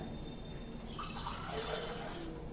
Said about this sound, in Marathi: झाकण्यावरती थोडंसं पाणी घालूया म्हणजे मग खाली भाजी लागणार नाही